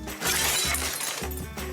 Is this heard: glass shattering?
yes